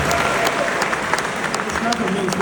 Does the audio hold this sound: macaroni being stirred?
no